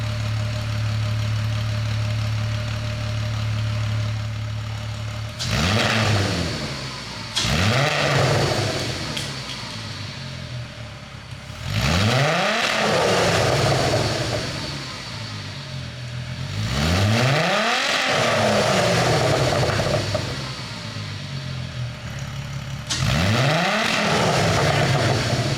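A Volkswagen VR6 from a 2002.5 six-speed GTI runs on its own outside the car, rumbling at idle and then repeatedly revving in loud, rising bursts that fall back between blips.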